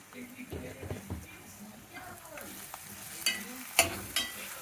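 Green chilies fry with turmeric and chili powder in a pan, a quiet, uneven sizzle with stirring scrapes and a few louder crackles, while someone talks over it.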